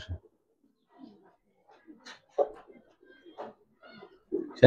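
Giribaz pigeons coo softly in short, scattered bursts close to the microphone, with quiet gaps between the calls and a brief rustle or flap at the end.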